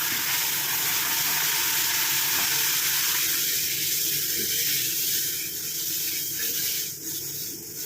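Herbal powders stirred into water in a pan on the stove, giving a steady, loud watery hiss and sloshing that runs throughout with no voices.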